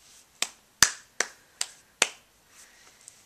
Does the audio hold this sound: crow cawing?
no